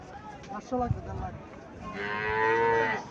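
An Indian Haryana cow lets out a long, loud, rising moo, preceded by a few lower grunting sounds and faint background voices.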